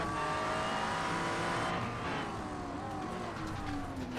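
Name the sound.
GT3 race car onboard at Motegi in sim racing video game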